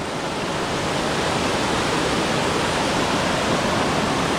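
Spring water bubbling up from the ground rushes and churns in a loud, unbroken wash of noise close at hand, steady from start to finish.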